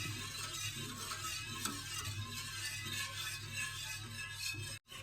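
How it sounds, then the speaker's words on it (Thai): A cooked paste for kimchi being stirred steadily in a pot, giving a continuous soft scraping and bubbling hiss at close range with no talking. "คนไปเรื่อยๆจ้ะพี่น้อง"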